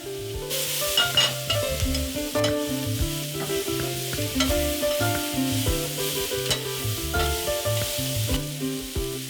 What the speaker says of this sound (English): In goes a teaspoon of garlic and ginger.